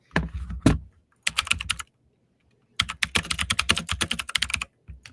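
A clicky tenkeyless keyboard is typed on in close bursts of rapid, sharp key clicks separated by brief pauses.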